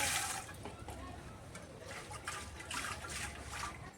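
Water poured into a clay pot gives a steady, continuous splashing and gurgling fill close by, with broad hiss that swells in waves throughout.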